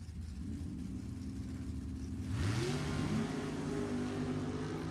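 Drag racing cars, including a 1963 Super Gas style Corvette, accelerate hard at an NHRA event, building from a steady engine rumble into a louder, rising roar as engines rev up mid-way.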